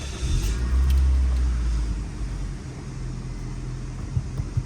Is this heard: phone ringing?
no